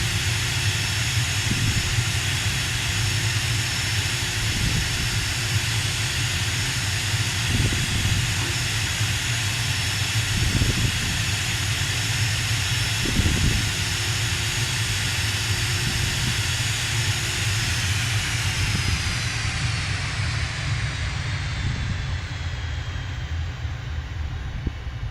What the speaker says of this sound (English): Jet is getting very quiet.